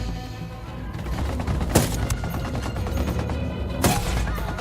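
Heavy gunfire from a Ghost Recon: Wildlands cutscene, sustained automatic fire with two sharp louder shots standing out, dense and close throughout.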